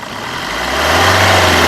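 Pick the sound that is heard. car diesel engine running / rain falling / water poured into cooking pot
car diesel engine running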